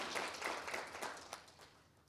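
A brief round of clapping from attendees at an official trade-strategy launch in Namibia, faint and thin, with scattered hand claps that thin out and trail off within two seconds.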